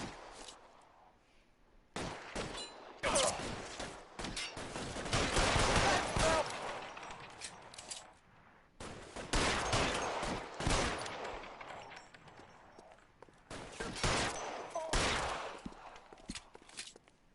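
Sustained gunfire shootout in the video game L.A. Noire: dense bursts of rapid shots and automatic fire in long volleys, broken by brief lulls, with occasional faint speech in the background.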